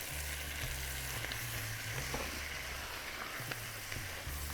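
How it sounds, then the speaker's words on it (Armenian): Shrimp pasta sizzling steadily in a frying pan while being stirred, a continuous close hiss and crackle with faint scraping stir strokes underneath, no voices. "Խառնում եմ։"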